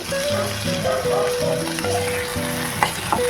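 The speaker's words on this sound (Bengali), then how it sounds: "সমস্ত রকম সবজিগুলো দিয়ে একটু ভেজে ভেজে নিচ্ছি" Mixed vegetables fry in oil in a wok with panch phoron and green chillies, giving a loud, continuous sizzle with occasional stirring clatter throughout.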